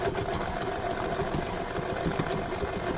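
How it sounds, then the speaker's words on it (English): An electric mixer whipping royal icing made with meringue powder, heard as a steady close motor whir with a faint rattling texture and no pauses or speech. "All right, so let me mix this together."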